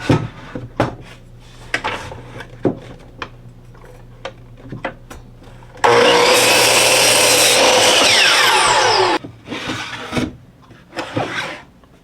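A power saw cuts a piece of wood for a DIY picnic caddie in one loud, steady burst lasting about three seconds. Scattered knocks and clunks of handling the board come before and after.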